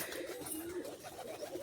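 Pigeons cooing softly while feeding and drinking water, low murmuring coos repeating steadily over a faint continuous background, fairly quiet and without voices.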